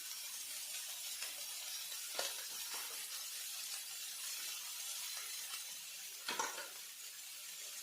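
A spoon stirs spice powder into roasted onions in a pan, with a soft, steady sizzle and a couple of sharper scrapes against the pan, quiet and close.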